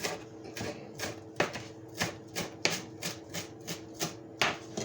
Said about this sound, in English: Chopping with someone else's knife is always difficult.